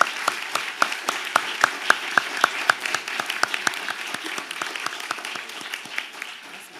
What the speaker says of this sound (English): I just want to give the panel a round of applause and thank them for that